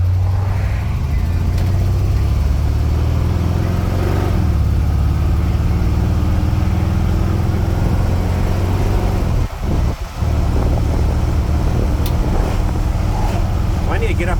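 A 1974 Ford Ranger XLT truck with a 351 V8 idles in a steady, loud, rumbling drone, a brief dip near the end, while someone talks over it.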